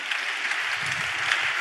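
A church congregation claps steadily together in praise, a dense, even wash of applause filling the room for a short stretch with no voices rising above it.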